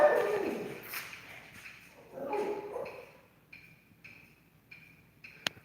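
Daisy, a dog, gives a few soft yips and whimpers on a morning walk, faint and intermittent, with quiet rustling and light ticking sounds between them.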